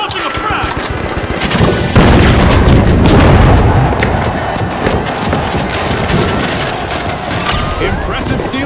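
A frag grenade blast in a video game, a loud booming burst over continuous gunfire and heavy explosive rumble lasting the whole stretch, with voices faintly under the din.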